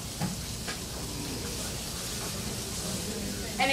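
A steak searing in a hot pan gives a steady, soft sizzle and hiss throughout, with faint talk over it and a few small clinks.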